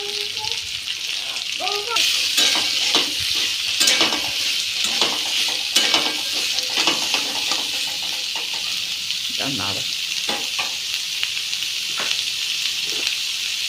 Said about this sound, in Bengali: মশলা দিয়ে একটা দারুণ সুগন্ধ বেরোলে দিয়ে দেবো পেঁয়াজ কুচি।